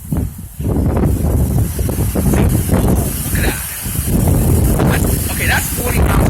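A strong wind gust of around 35 to 40 mph funnels between buildings in a wind-tunnel effect, roaring and buffeting the microphone in loud surging waves, with someone talking over it.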